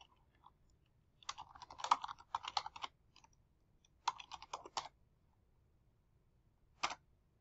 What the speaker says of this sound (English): And then we can type in whatever we would like.